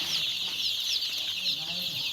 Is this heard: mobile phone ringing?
no